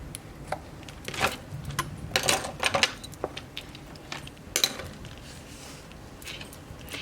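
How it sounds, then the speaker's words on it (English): Scissors snip binding threads on a Japanese stab-stitch journal, a few small sharp metallic clicks and snips scattered over a quiet background, close up and without speech. "Now, I will go ahead and cut my threads."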